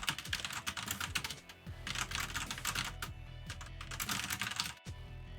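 Rapid clicking of computer keyboard keys while someone plays League of Legends, heard as fast bursts of close, crisp keystrokes with brief gaps and steady game audio underneath.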